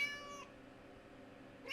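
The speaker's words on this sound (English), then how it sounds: "Siamese cat." A Siamese cat meows in the Alfred Hitchcock's Vertigo video game, one short cry fading out and another starting at the end, moderately loud over a low steady background.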